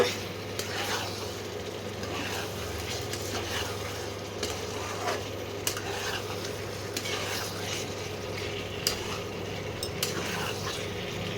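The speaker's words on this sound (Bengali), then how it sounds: "এবার এগুলোকে ভালো করে মিশিয়ে নিতে হবে" Whole green chilies and dried red chilies are stirred in a hot pan, a continuous sizzle with occasional spoon scrapes and clinks, close and steady, no voices.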